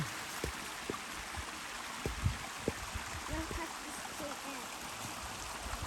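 Creek water flows and trickles steadily in the background near a spring, a soft continuous babble with light thumps and footsteps over it and no clear speech.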